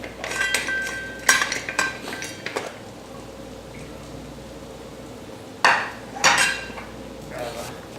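A pressure cooker's lid comes off after braising salsa beef, with bright metallic clinks and clatters of the lid and pot in two bursts separated by a quieter pause, close and fairly loud.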